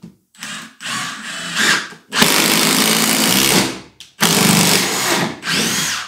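A Milwaukee M18 FID3 cordless impact driver drives screws in its third, most powerful mode, giving loud close hammering bursts of several seconds with brief stops between runs.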